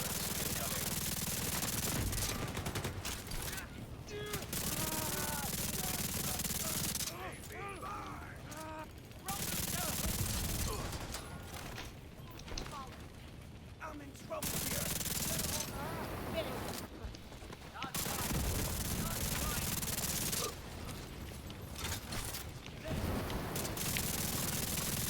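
Sustained automatic fire from a light machine gun in an Xbox shooter, rattling in long, dense bursts with brief gaps, loud and close throughout, with a player talking over it.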